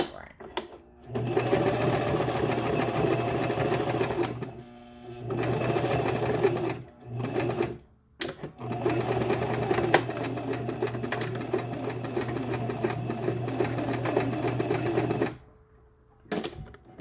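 Sewing machine stitching a wig, running loud and steady in long bursts with brief pauses between runs; a voice speaks at moments over the motor.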